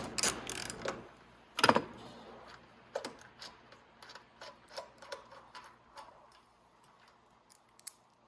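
Ratchet clicking in short bursts while a 12 mm bolt is loosened from the tank of a Venom x22R 250cc motorcycle, with metallic ticks and clanks of tool handling, close and otherwise quiet.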